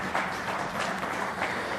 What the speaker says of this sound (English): please join me in giving a warm and enthusiastic round of applause